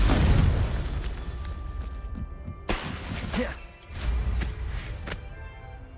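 A Confringo spell in Hogwarts Legacy goes off as a deep booming blast, followed by two more sharp bursts with rumbling low-end tails, loud and close amid game ambience.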